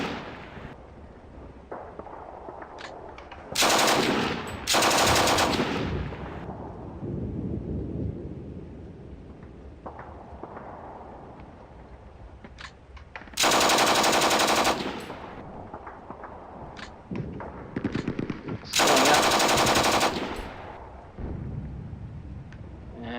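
Bursts of gunfire in the Steel Panthers: World at War wargame, several loud separate volleys of rapid shots with quieter clicks and rumbles between them.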